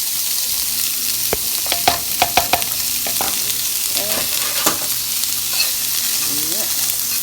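Onions sizzling in a hot pan for a Philly cheesesteak, a steady bright frying hiss with several sharp scraping stirs and spatula taps, close and clear with no talking.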